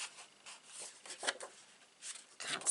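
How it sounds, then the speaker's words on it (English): Scissor blades are drawn along a card's score line while making note cards. Soft, close scraping strokes come in short bursts with brief pauses, quiet and dry. "I'm just running my scissors up the long way."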